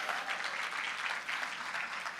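Audience applause at a startup demo day event, a steady wash of many hands clapping for a couple of seconds, fairly distant and even with no talk over it.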